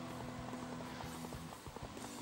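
Horse hooves galloping in the video game Dynasty Warriors 4, a steady clip-clop rhythm running throughout beneath dense, loud battle ambience and music.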